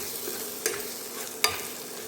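Spices roast in a pan for a potato and pea bhaji, a soft steady sizzle broken by two brief scraping stirs.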